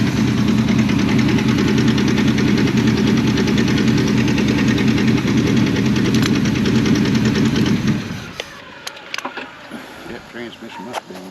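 An abandoned 1984 Chevrolet Monte Carlo race car's engine runs roughly with a loud, knocking, steady rumble for about eight seconds, then shuts off, leaving faint clanks and quiet; people talk over it.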